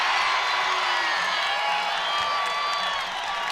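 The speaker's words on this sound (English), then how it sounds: "You hear the crowd going nuts after the first missed free throw" A women's basketball crowd at an Iowa versus Illinois game roars after a missed free throw, a dense, sustained wash of cheering and whoops that holds steady throughout.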